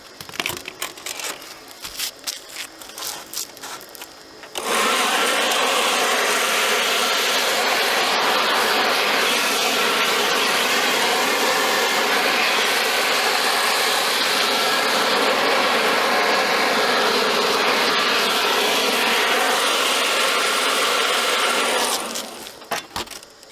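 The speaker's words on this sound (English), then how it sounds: "then we're just going to blow this all off, get all the dust out of here." A blower clearing dust off a concrete chimney crown, a loud continuous roaring rush that starts abruptly after a few seconds of scattered clattering, holds steady for about eighteen seconds and then cuts off.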